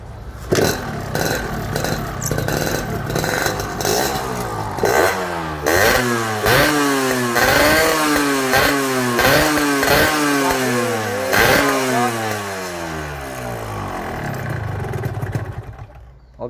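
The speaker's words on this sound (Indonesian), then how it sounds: "kita dengerin knalpotnya, suaranya." A 1992 Yamaha RX King motorcycle fitted with an Altec C17 exhaust revs repeatedly up and down, its two-stroke engine note rising and falling in close, loud bursts throughout.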